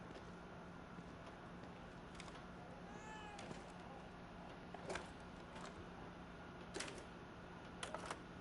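A cat gives a single faint, wavering meow partway through a quiet stretch, set against a low steady hiss and a few sharp clicks.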